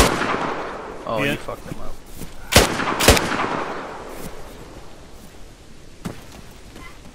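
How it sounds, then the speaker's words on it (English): Two sharp, loud Ruger gunshots crack out during a firefight in the video game DayZ, with a few fainter distant shots after them while players talk excitedly over the action. "Shooting a fucking Ruger at me."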